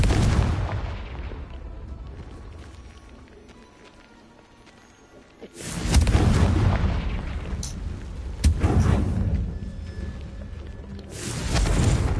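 Booming blasts from the Confringo fire spell in Hogwarts Legacy erupt loudly after a quieter spell of game ambience, with one big burst followed by a second hit a few seconds later, over a dense rumbling background.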